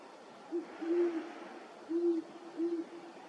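A pair of courting great horned owls, male and female, giving soft low hoots in a short series of three to four notes, fairly faint against a quiet night background.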